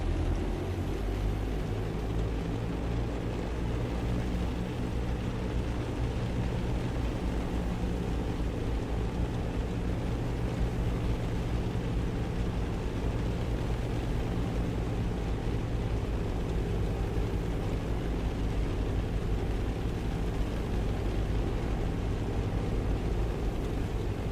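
A piston twin aircraft's engines roar steadily at high power through a takeoff roll, a dense constant drone with a low throb that holds loud and even from start to finish.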